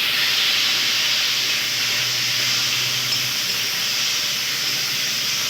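Chopped tomato dropped into a hot pan of sizzling spice tempering, a loud continuous frying sizzle that holds steady throughout, close by, with no talking.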